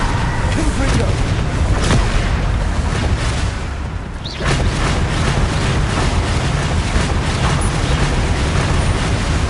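A Confringo blast spell in Hogwarts Legacy hits as loud, dense booming bursts in a busy game fight, with a short drop in the middle before the noise surges back.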